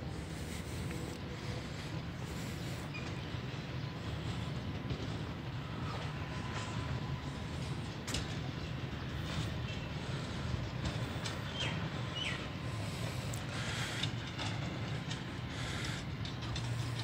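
A train at Rawalpindi railway station gives a continuous low rumble with metallic clanks and rattles of rail cars throughout, steady and fairly close, with no talk.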